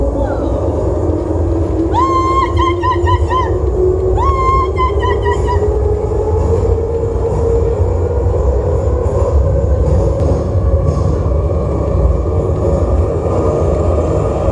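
A metro train rumbles loudly and continuously during a student stage skit set in the subway, with a few rising electronic beeps and tones early on over the steady roar.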